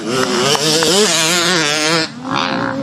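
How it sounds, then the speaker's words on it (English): A motocross dirt bike at the East Fork MX track revs hard in a sudden panicked burst, its engine note climbing and wavering loudly and close before dropping off sharply near the end. "Hear that panic rev?"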